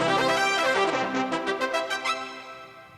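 Brass voice on the upper keyboard of a Lowrey organ: a bright, full chord that slides downward, then a few punchy stabs that ring out and fade, played alone without talk.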